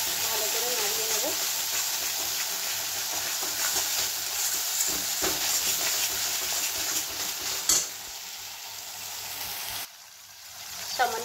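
Spices stirred through hot oil in a pan with salt, turmeric and ground cumin for a mustard hilsa fish dish: a steady close sizzle with scraping strokes, briefly dropping out near the end.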